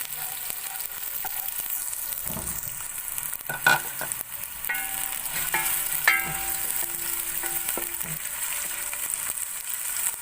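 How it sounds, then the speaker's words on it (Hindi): Sliced onions browning in a pan over low heat for aloo chicken shorba, giving a steady soft sizzle throughout with occasional scraping stirs and utensil clinks, close and alone without talk. "अब प्याज को मैं हल्की आंच पर ब्राउन कर लूंगी"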